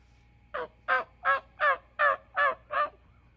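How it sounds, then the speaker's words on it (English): Wild turkeys at dawn, just coming down from their roost trees, gobble in a rapid series of seven evenly spaced calls, clear and moderately near against a quiet outdoor background. "Listen to those turkeys talking. They're just now getting down out of the trees."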